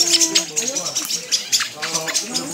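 Wild starlings (jalak) scavenging hikers' leftover rubbish, a flock giving busy chirps and whistles close by, irregular bursts overlapping one another, with people talking among the calls.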